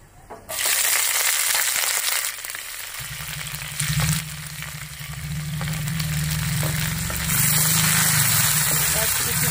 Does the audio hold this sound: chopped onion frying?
yes